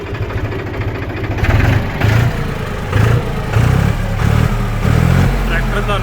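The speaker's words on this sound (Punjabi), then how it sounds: "ਫਾਰਮ ਟਰੈਕ 45 4 ਵੀਲ ਆਪਾਂ ਸਟਾਰਟ ਕਰ ਲਿਆ" A Farmtrac 45 4WD tractor's diesel engine idles loud and close with a steady rumble, its chugging swelling in regular pulses.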